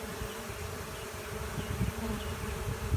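A swarm of honey bees drones steadily around a swarm box, a dense, continuous buzz that stays close and even throughout, with no voices.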